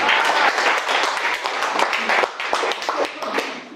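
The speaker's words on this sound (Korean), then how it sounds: "박수 한번 쳐주세요" A lecture audience at an economics talk bursts into dense, close applause, a loud continuous wash of many hands clapping that holds throughout.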